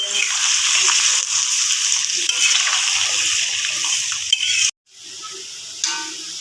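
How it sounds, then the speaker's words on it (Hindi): Potatoes frying in mustard oil give a steady, close hissing sizzle, briefly cut off, then resuming more faintly. "सरसों के ऑयल में आलू को फ्राई करते हैं।"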